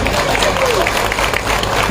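A crowd applauds at a political speech by Dhananjay Munde at a sugar factory event, with dense, loud, steady clapping filling the whole stretch and a voice faintly underneath.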